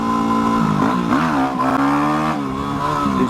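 A 250R motorcycle engine revving hard and close during a wheelie attempt, its pitch rising and dipping in several surges of a loud, continuous buzzing drone.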